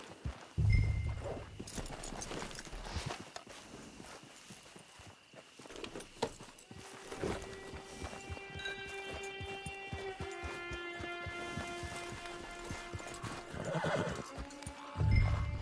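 Horse hooves clip-clopping and a horse neighing in the Red Dead Redemption Online video game, with repeated whinnies near the start and end over steady hoof steps and a low in-game hum.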